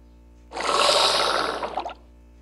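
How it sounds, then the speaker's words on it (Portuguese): A mosasaur drops into water in Minecraft with a Jurassic World mod, a single game splash that bursts in, holds as a bright rushing wash for about a second and a half, then fades out. "Deixa eu botar o mosasauro na água."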